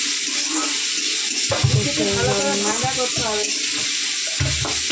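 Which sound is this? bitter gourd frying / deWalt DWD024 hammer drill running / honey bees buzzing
bitter gourd frying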